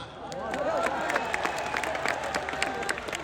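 Steady applause from a large audience at a religious speech in Indore, dense clapping sustained throughout, with crowd noise and a voice faintly underneath.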